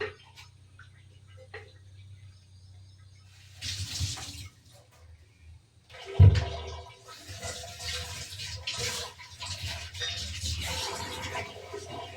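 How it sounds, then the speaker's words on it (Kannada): Buttermilk poured into a pot of avial, a Kerala mixed-vegetable dish, giving a soft liquid splash and trickle after a sharp knock of the vessel, over steady low kitchen hum. "ಮಜ್ಜಿಗೆ ಹಾಕ್ತಾ ಇದ್ದೇನೆ."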